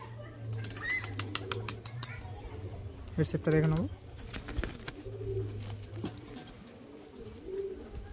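A Madrasi pigeon coos once in a brief, clear burst midway, set against a low hum and scattered clicks, while someone talks over much of the scene.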